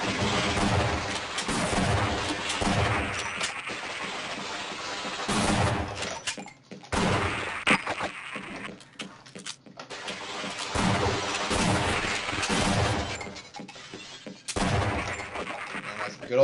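Gunfire in the video game Half-Life: repeated loud bursts of shooting and booming impacts in dense clusters separated by short gaps, with a voice talking at times.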